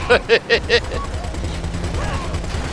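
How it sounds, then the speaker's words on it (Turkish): Gunfire during a GTA 5 Online heist: four loud, evenly spaced shots open the scene, followed by a busier background of engine rumble and scattered game sounds. "Valla ben herkese sıkıyorum."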